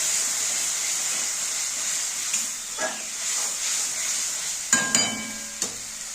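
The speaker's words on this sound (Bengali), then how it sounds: "এবার ভালো করে কষিয়ে নেব।" Spice paste being sautéed in a pan for a Bengali potol-aloo fish roe curry, with a steady sizzling hiss and a few sharp scrapes and clinks of a spoon against the pan, close and alone.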